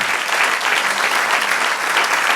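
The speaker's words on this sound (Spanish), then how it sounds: "Denle un aplauso al Señor." A church congregation applauds together during a sermon, producing dense, steady clapping that stays loud and even throughout with no voices over it.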